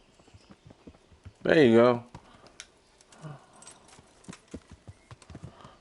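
A loud horse whinny rises and falls in the video game Kingdom Come: Deliverance, followed by scattered hoof clops and light steps, with brief speech in the background.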